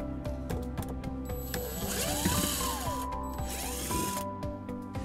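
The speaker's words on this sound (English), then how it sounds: "that exposes two screws that we'll remove using a Phillips screwdriver" Screws being backed out of interior trim on a 2016 Honda CR-V, with a close whirring driver that rises and falls in two short runs amid light clicks and handling noise.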